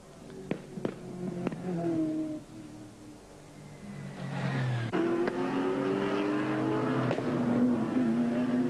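A race car runs down through the Dipper on a circuit, its engine note rising and falling in pitch as it passes at moderate distance, with a brief lull and a few sharp clicks along the way.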